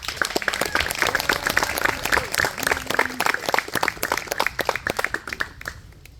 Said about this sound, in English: So round of applause on that.